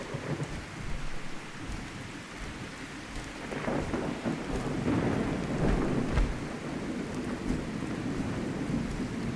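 A heavy downpour drums steadily in Fallout 4, with deep rolling thunder swelling through the middle and no voices.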